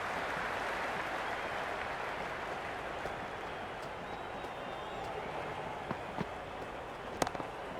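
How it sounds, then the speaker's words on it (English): Stadium crowd noise from a CSK vs RR match in the Cricket 26 video game, a steady broadband roar of cheering and applause that holds throughout, with a few sharp bursts near the end. "The crowd is electric right now."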